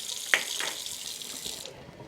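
Tap water runs into a pot of jasmine rice for cooking, a soft splashing stream with a small clink at the start before it tapers off.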